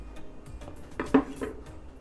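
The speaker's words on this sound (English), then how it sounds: "Place the chopped radishes in a bowl." Chopped radishes drop into a bowl in a quick scatter of light clicks and knocks, with one sharper clack in the middle among softer taps, close and fairly quiet.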